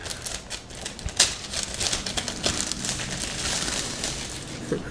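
Plastic wrap is peeled off a new Motorola Razr phone, producing irregular crinkling and crackling with sharp little snaps, close-up and moderately quiet, with no speech.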